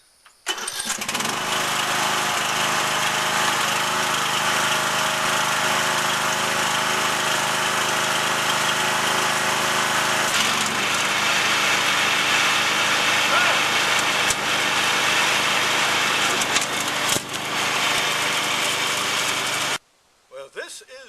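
A Snapper lawn mower engine runs loud and steady for about twenty seconds, with a brief dip midway before cutting off, a voice faintly present beneath the drone.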